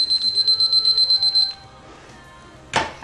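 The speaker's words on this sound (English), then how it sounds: "Timer!" Timer alarm beeps in a fast, bright, repeated pattern for about a second and a half and then stops, followed by quiet room noise and a short burst of sound near the end.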